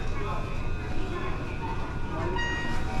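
Steady rumble of a train at a busy station in Japan, with rail noise and station hum, a faint high squeal near the end, voices mixed into the background.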